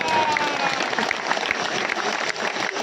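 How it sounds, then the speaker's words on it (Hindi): An audience at a Hindi comic poetry recital bursts into dense, continuous applause, loud and close throughout the short burst. "तालियां तो इस बात पे चाहिए मुझे"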